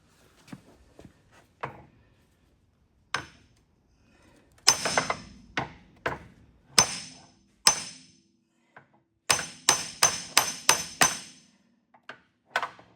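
Two hammers of different sizes strike stubborn parts on a Pontiac Firebird build, giving sharp metallic blows that come irregularly at first, then in a rapid run of hits near the end, each ringing briefly.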